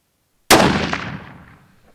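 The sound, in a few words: cold bore rifle shot during long range load testing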